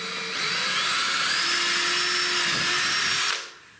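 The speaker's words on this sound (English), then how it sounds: "so I'm going to drill a hole here." A power drill bores a hole through wood beside a skirting board, giving one high, steady whine that lasts about three seconds before cutting off abruptly.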